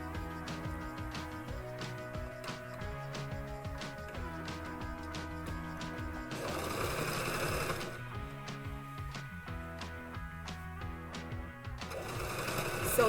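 A sewing machine stitches fabric together in steady, rapid mechanical rhythm with a constant whirring hum. It pauses briefly and then runs on with a few faster, louder passages, up close and alone.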